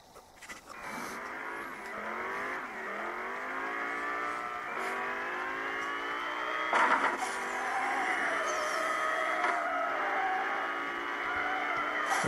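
Game car engine in Need for Speed No Limits revving steadily through a long drift, with rising and falling gear-whine harmonics, loud and continuous with a brief sharper burst partway through.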